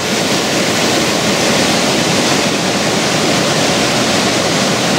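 A forest stream flows steadily close by, a constant broadband rush of water with no break or change over the few seconds, loud and alone without any voices.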